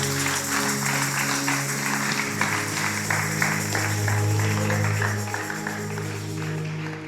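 A church congregation claps and cheers to acclaim the Lord during a French-language sermon service, a steady sustained applause running under droning music throughout.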